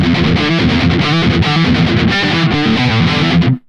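Les Paul electric guitar played through distortion on the middle pickup with the 57 Plus and 57 pickups together, a loud dense strummed riff with rhythmic chord hits that cuts off abruptly at the end.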